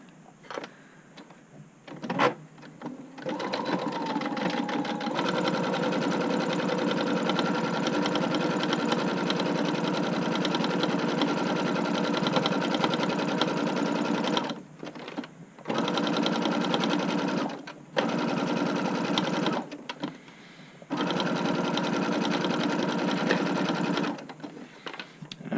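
Sewing machine running a straight stitch on a button-up shirt, a steady close whirring hum in long sustained runs with a few brief pauses and restarts.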